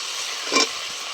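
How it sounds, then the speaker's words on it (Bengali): Tomato paste hits hot oil with ginger and garlic, giving a steady bright sizzle throughout and a short, louder spit of frying right as it lands, with no talking. "এবার দিয়ে দিচ্ছি টমেটো বাটা।"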